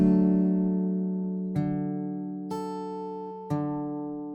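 Fingerpicked guitar notes ringing with sustained harmonics, with a low thumbed bass note struck on the downbeat at three evenly spaced points as the chord decays; no voices.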